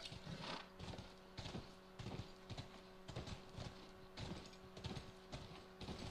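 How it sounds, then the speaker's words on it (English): Horse hooves clip-clop in The Last of Us, a steady run of hoofbeats rising and falling over roughly six seconds beneath a constant game soundscape, with no talking. "Come on, back to the horses."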